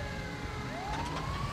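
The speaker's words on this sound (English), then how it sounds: "Why is there an ambulance, though?" An ambulance siren wails in the Grand Theft Auto V video game, a loud, steady, close siren sweeping up and down in pitch over engine and street noise.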